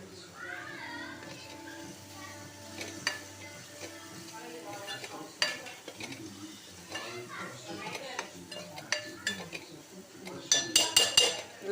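Ginger-garlic paste with turmeric frying in a pan for a mutton curry, stirred with a spoon that scrapes and clinks against the metal, over a low sizzle while a voice speaks throughout.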